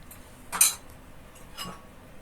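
Dishes and cutlery being lifted out of a home dish drying rack, two separate light clinks and clatters about a second apart, close and quiet, with no talking.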